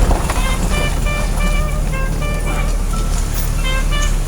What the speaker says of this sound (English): this car barely fits through this fucking opening here